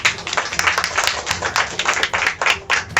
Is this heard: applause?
yes